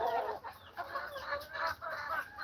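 Chickens cluck and chatter close by in a continuous, busy stream of short calls, with no talking.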